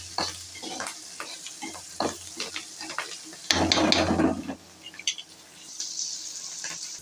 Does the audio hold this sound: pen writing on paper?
no